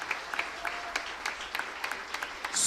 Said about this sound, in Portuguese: Igreja, vamos dar uma salva de palmas a Jesus